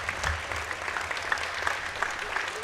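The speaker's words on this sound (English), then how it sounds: "he'll have, as they get a round of applause" A crowd applauds seniors as they leave the floor late in a high school basketball game between Wes-Del and Blue River Valley, steady dense clapping filling the gym throughout, moderately loud with a faint murmur beneath.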